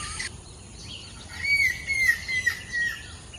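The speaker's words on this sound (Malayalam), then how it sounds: "ഒരുപാട് കിളികളുടെ സൗണ്ട് ഇവിടെ നിന്ന് കേൾക്കാൻ പറ്റുന്നുണ്ട്." Birds calling in a forest near a hut at East Looker, thin high chirps and a drawn-out whistled call rising in the middle, fairly close and clear over a quiet background, with no talking.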